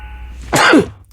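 A single sharp sneeze bursts out close by against a quiet room tone, lasting about half a second before fading.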